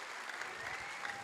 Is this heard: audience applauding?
yes